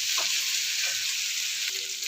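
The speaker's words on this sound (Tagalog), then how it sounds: "So start na tayo maggisa ng bawang sibuyas, kamatis" Garlic, onion and tomato sautéing in a pan for a Filipino ginisang upo, giving a steady close sizzle with a few faint stirring scrapes and no voices.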